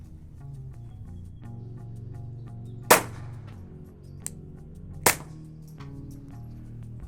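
Two sharp suppressed pistol shots from a Glock 44 firing SK flat nose subsonic target ammunition, spaced about two seconds apart over a low steady hum, with a faint click between them and no talking.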